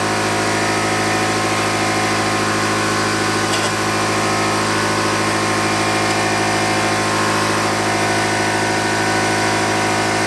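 An aquaponic grow bed watering system runs with a steady pump hum and continuous water flow, loud and constant throughout with no pauses.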